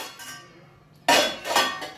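A faint rustle, then a few sharp metallic clanks and clatters as pots and pans are shifted around nearby.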